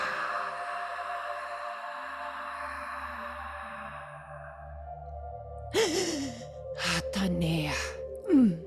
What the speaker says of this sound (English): Breathing, please.